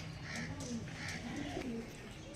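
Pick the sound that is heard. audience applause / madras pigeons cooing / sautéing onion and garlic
madras pigeons cooing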